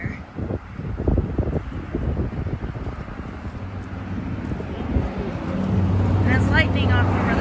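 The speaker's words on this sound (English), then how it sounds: "It is so windy out here." Strong wind buffets the microphone on a Gulf of Mexico beach in Biloxi, Mississippi, a steady low roar that swells louder toward the end, with people talking over it.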